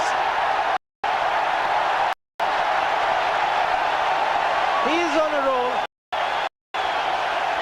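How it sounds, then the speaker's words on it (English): A large cricket crowd at Eden Gardens roars and applauds a six in an India versus Pakistan match, a broad steady wash of cheering beneath a commentator's voice, with a few brief dropouts. "The crowd's loving it."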